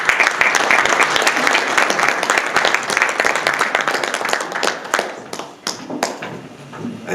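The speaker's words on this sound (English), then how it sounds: "Please, a round of applause once more for Mr. Damien Diallo" Audience applause at a Ghana investment promotion event: dense, sustained clapping from a crowd, loud and close, tapering off toward the end into scattered claps.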